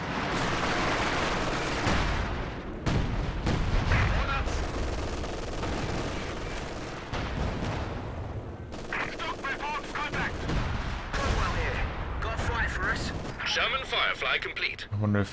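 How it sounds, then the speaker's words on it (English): Base artillery and gunfire in a Company of Heroes 2 two-versus-two battle: rolling bursts of shots and heavy booming impacts, loud and continuous, under steady talk from commentators. "that base artillery is pretty rubbish unless you tech for Anvil and get the airburst shell"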